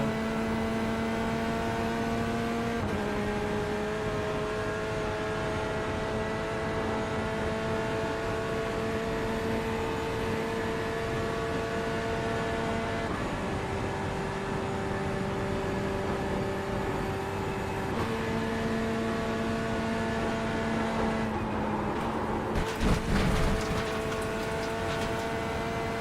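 A sim racing car engine hums steadily at a sustained pitch that shifts up and down with gear changes, loud and close throughout, with a brief rattling disturbance near the end.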